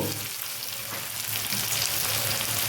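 Ginger garlic paste frying in a pan of oil, a loud, close, continuous hiss and crackle with a faint low hum beneath, steady throughout without talk.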